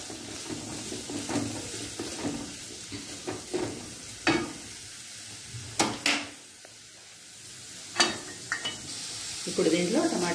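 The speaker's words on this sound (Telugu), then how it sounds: "ఇవన్నీ ఉల్లిపాయలు వేసి ఒక్క 2 నిమిషాలు అలా వేయించుదాం" Onions frying in a pan, with soft sizzling and intermittent stirring scrapes and clinks, moderately close, alone without talk.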